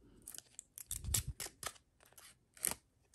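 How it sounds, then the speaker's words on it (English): Protective film being peeled off a shiny print, heard up close as irregular crinkly, tearing bursts of plastic with short pauses between pulls and no talking. "I think you're supposed to peel off this top layer of film"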